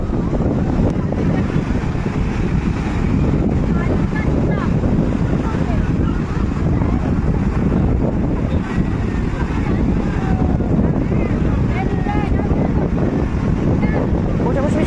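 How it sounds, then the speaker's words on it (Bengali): Sea waves at Puri beach, Odisha, roar and wash onto the shore continuously, mixed with gusty wind noise and faint voices in the background. "সমুদ্রের ঢেউ আজকে বেশ ভালোই আছে"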